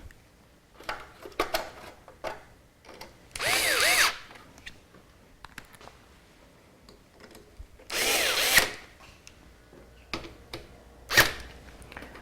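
A power screwdriver drives screws into a Corsair 550D computer case, with two long whirring bursts and a short final one, separated by quiet handling and small clicks of parts being positioned.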